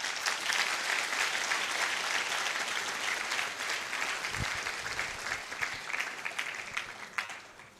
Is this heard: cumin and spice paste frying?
no